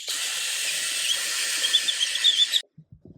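A power drill bores a hole for bathroom fan wiring near metal-clad cable, a loud steady high whine for about two and a half seconds, then stopping abruptly followed by a few small knocks.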